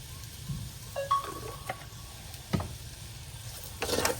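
Masala for a beef curry fries in oil while being stirred, a soft sizzle with occasional spoon scrapes and clinks against the pan, fairly quiet and close.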